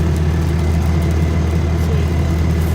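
Ram truck with a 24 valve Cummins diesel cruising in fifth gear, a constant loud, deep engine drone with steady road noise and no break in the hum.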